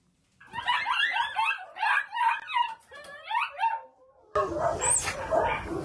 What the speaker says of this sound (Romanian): au făcut percheziții la o adresă unde erau 460 de câini